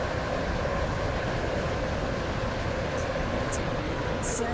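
Steady rumble and rattle of a two-coach train running on the Stepford County Railway in Roblox, continuous and even throughout, with a brief higher chime or squeal near the end.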